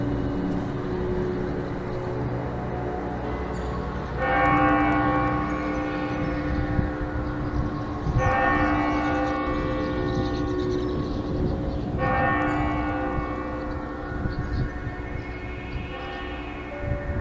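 An 11.5-ton church bell rings in the bell tower of the Pochaiv Lavra in Ukraine, with deep resonant strikes every few seconds over a constant low hum, heard at a distance with no talking.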